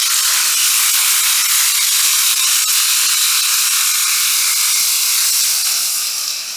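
Meat hitting a hot pan slicked with oil sizzles in a loud, steady hiss that holds for several seconds and eases slightly at the end, with no voices.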